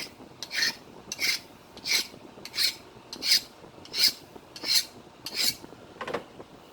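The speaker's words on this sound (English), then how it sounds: "sharpen my flaker" A flint-knapping flaker being sharpened with about eight evenly spaced, rhythmic rasping strokes against a grinding surface, close and fairly loud, with no talking.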